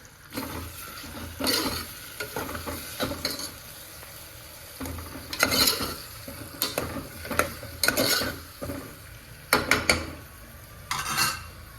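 Onions and other ingredients frying in a pan for a home-cooked dish, with a steady sizzle broken by repeated stirring scrapes and clinks of a utensil against the pan, fairly close and with no voices.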